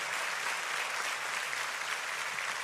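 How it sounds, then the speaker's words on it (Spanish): Sustained applause from a church congregation during a Spanish-language sermon, a dense, steady wash of many hands clapping at once, loud and even throughout with no voices over it. "Si ese aplauso es para el Rey de Reyes, tiene que sonar con fuerza"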